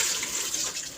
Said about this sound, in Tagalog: Hugasan natin bago lutuin.